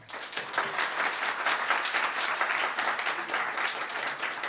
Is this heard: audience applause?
yes